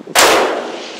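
A single loud 7mm PRC rifle shot fired at a 300-yard target outdoors, a sharp crack followed by a rolling echo that fades over about a second.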